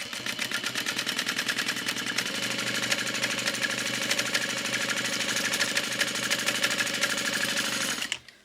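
A sewing machine runs steadily, stitching a fabric messenger bag in a rapid, even mechanical rhythm for about eight seconds before stopping abruptly, close and loud with no talk.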